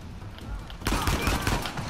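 Gunfire in the video game Uncharted 4: A Thief's End, a sudden dense burst of rapid shots that starts partway in and continues loud to the end.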